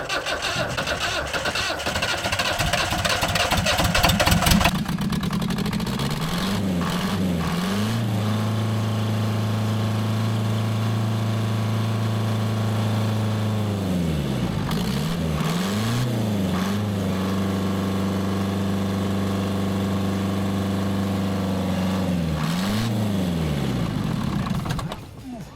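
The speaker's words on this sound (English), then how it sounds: "but I do like to see a static engine running" A static engine on display at a Land Rover autojumble in Ripon clatters into life, settles into a steady idle, and is blipped up and back down a few times, close and loud.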